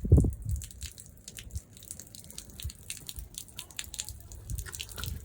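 Water draining and dripping from the underside of a machine, irregular drips and small splashes with a louder gush at the start, close and fairly quiet.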